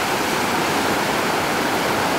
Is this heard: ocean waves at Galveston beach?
yes